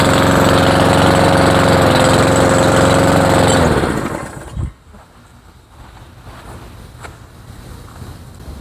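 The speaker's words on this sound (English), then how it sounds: "It's idling a little low, maybe a little too rich." A Cub Cadet self-drive riding mower engine idles low and rough with a steady throbbing drone, then cuts off abruptly, leaving a faint quiet background.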